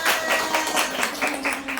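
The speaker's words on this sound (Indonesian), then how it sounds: "tepuk tangan untuk kita semua" A group claps together in a steady rhythmic pattern during an icebreaker activity, brief and fairly loud, with a faint voice underneath.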